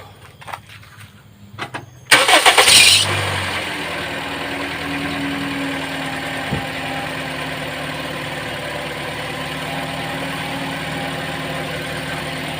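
A 2009 Toyota Vios car engine cranks and catches after a battery replacement, with a loud burst at the start that settles into a steady, even idle running close by until the end.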